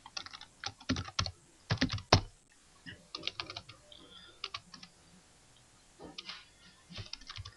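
Quiet keystrokes on a computer keyboard come in short irregular bursts of rapid clicks with brief pauses between them, like someone entering text in AutoCAD 2018.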